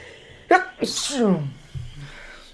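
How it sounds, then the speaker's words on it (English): A single loud sneeze with a sharp intake of breath before it, close up, followed by a quiet moment. "I'm about to sneeze"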